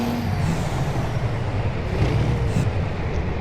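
A semi truck's engine idles in American Truck Simulator as a steady, dense diesel rumble with hissing air, continuous and close throughout, with no one talking.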